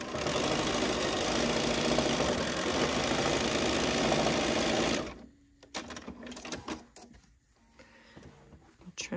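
A sewing machine stitches folded binding onto a zip pouch in a steady, close mechanical whir for several seconds, then stops, leaving quieter clicks and handling noises.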